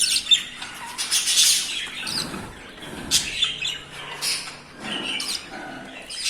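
Cockatiel chicks squawk loudly and repeatedly while being hand-fed, harsh begging calls bursting in close, rapid succession with no talking.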